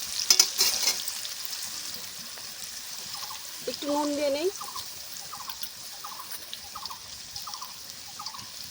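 Potatoes frying in hot oil with whole cumin seeds, a steady sizzle, some stirring clatter near the start, and a voice speaking briefly over it.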